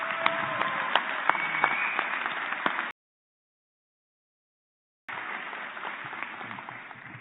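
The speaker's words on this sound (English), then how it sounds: "Big round of applause, please, for Marg McGee." A college convocation audience applauds, a dense patter of many hands clapping at moderate distance. The applause cuts out abruptly partway through, drops to silence for a couple of seconds, then resumes.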